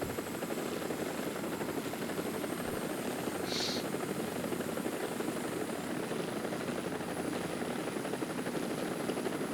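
A Huey helicopter in War Thunder flies with a loud, steady rotor and turbine roar that holds evenly throughout, close and without pause.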